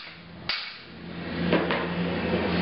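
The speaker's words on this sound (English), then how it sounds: "take a hammer and just gently knock onto the edge of the fork a couple of times" Hammer gently knocks the edge of a fork on a disassembled bicycle suspension unit, a single sharp tap followed by two softer knocks in a quiet workshop.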